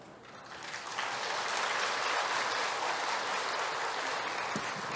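A church congregation breaks into applause, dense sustained clapping from a large crowd that swells in the first second and holds steady throughout.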